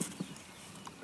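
Hooves of a gaited horse at a canter thud softly on the ground in a quick uneven rhythm, a few faint beats without talk.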